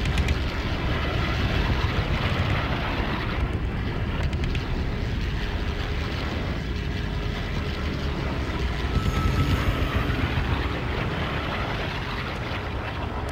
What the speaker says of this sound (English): Before the bombers pass!